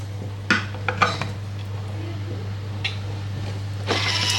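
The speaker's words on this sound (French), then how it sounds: "Et maintenant, tu viens mélanger le tout." A utensil scrapes and clinks against a bowl while mixing crêpe batter with a pinch of salt in a home kitchen. The knocks are sharp and irregular, with quiet gaps between them, over a low steady hum.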